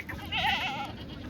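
A single goat bleats at a livestock market in Hingoli district, one short wavering call heard close by over faint background murmur.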